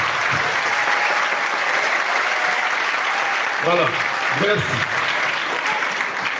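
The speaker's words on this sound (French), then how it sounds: "Je voudrais que vous lui donniez un tonnerre d'applaudissements." Church congregation at a Sunday Mass applauding a bishop, a loud, sustained burst of clapping while a voice speaks briefly over it near the middle.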